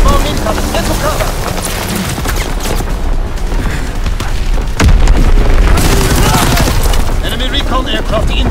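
Artillery and bomb explosions in the Call of Duty WWII multiplayer beta on PS4, loud continuous booming blasts with a heavy impact near the middle, under a shouted game voice.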